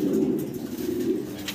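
Pigeons of a prized show pair coo steadily for under two seconds, a low soft warbling murmur filling the clip with no talk over it.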